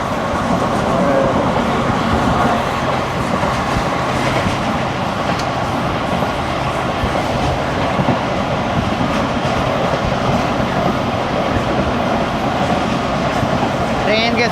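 A Musa Pak passenger train runs at night from Lahore to Multan at about 100 km/h, heard from inside the carriage as a steady, loud rumble with continuous rail noise and no clear break.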